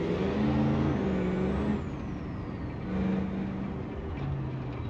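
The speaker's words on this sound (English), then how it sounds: "The sound of the turbo spool is just nuts" The Civetta Scintilla in BeamNG.drive drones with engine hum as its turbo whistle climbs to a high pitch, then sweeps back down while the engine keeps running.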